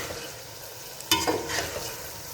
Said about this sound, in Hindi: अब अच्छे से हम कर लेंगे मिक्स